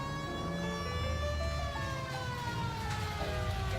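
A police car siren wails steadily in L.A. Noire, loud and close with rising and falling tones over a low engine rumble, uninterrupted and with no talk.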